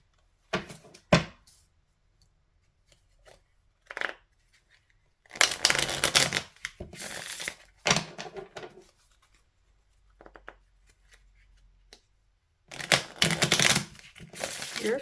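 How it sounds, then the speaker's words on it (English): Tarot cards riffle and shuffle in several quick bursts separated by pauses, crisp and close, with no talking. "Your shuffles are quite smooth as well."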